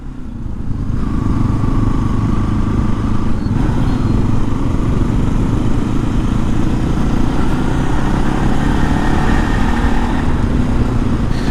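A Bajaj NS 200 motorcycle fitted with an Akrapovic full-system exhaust holds a steady, loud, close idle with a deep continuous rumble and no one speaking.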